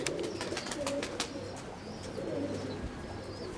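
A stray game pigeon that has landed coos softly, two faint low throaty phrases a couple of seconds apart over quiet background noise and a few light clicks.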